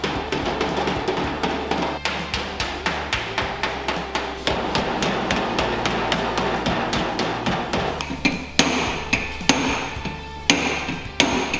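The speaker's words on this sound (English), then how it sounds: "Once I've got that right, I'll come back and give it the final hammer job." A hammer strikes a steel door skin to flatten it, with rapid, evenly paced metallic blows close by that keep going without a break, a few landing harder near the end.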